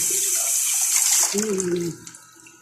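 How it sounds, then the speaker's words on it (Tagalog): Water poured into a cooking pot, a steady splashing pour that stops partway as a voice speaks over the end. "Dagdagan mo ng tubig."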